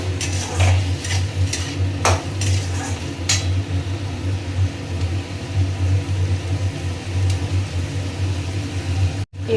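Onion and green chili fry in a pan with salt and a little sugar, giving a steady close sizzle with a few stirring scrapes and a low hum underneath.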